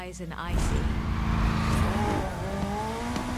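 A McLaren engine in Forza Horizon 4 roars up and revs in rising sweeps, close and loud, with a tire squeal, while someone talks over it.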